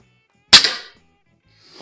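A single sharp, loud shot from a Norica Variatus 2.0 .22 bullpup air rifle at an outdoor range, a crisp crack with a short decaying tail, followed by quiet and a faint rising sound at the end.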